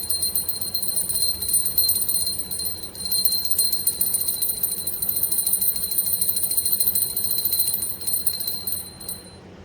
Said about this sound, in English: I'm going to ring bells